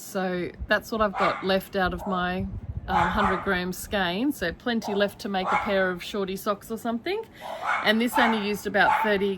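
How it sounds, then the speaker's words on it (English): Dogs bark and yip repeatedly in a home, sharp and fairly close, overlapping with someone talking steadily throughout. "Sorry about the barking."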